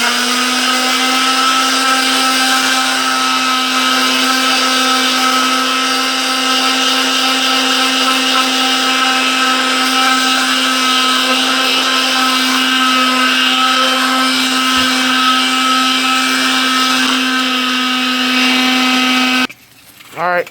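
A power sander runs continuously on a fiberglass door panel with 60 grit paper, giving a loud, steady whine with a strong tonal hum and bright harmonics, then cutting off abruptly just before the end.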